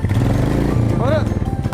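A Royal Enfield motorcycle engine thumps close by with a steady low throb, while people talk and shout over it.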